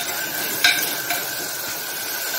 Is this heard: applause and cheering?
no